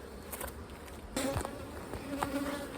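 Honeybees buzz steadily around an open hive during an autumn inspection, a dense close hum with individual bees droning past, with no talking.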